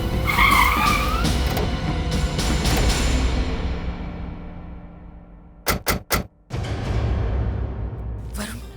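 Car tires skidding outside a house at night, a long loud screech fading away over several seconds, then a few sharp bursts and another loud rush, with no speech.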